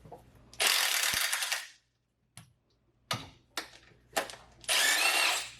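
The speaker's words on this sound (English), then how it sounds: "let's go ahead and take off these bolts" A power tool works on the 19mm and 17mm transmission bolts of an Acura Integra GS-R, giving two loud, close bursts of whirring. Between them come sharp clicks and metallic taps from loosened parts.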